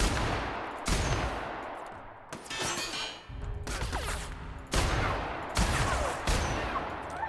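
Gunfire in The Outer Worlds during a firefight, loud sharp shots arriving in separate bursts about every second or so, each ringing out briefly, with no talking between them.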